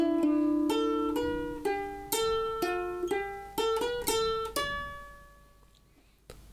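Ukulele playing the main melody of a song, a run of about ten clear plucked notes in a steady rhythm, with the last note left ringing and fading.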